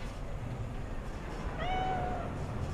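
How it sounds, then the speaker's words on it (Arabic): A single short, clear meow from a cat in Cyberpunk 2077 rises briefly above a low, steady background hum, fairly close and alone without talk. "داعب القطة."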